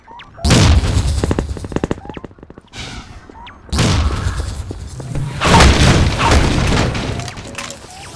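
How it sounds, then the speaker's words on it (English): Sniper fire and other gunfire in Half-Life 2: Episode One: loud booming shots and thuds across a street fight, with bursts near the start and several heavy blasts later, set against constant battle noise. "can't get through here while that sniper's covering the street."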